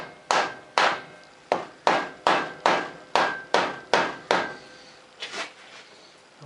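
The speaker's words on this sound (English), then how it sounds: "let's give this thing a few whacks with a rubber mallet, see if this thing will come loose" Rubber mallet whacking a bolted part to knock it loose, about ten sharp, evenly spaced blows close by, followed by a couple of lighter knocks, with no talking.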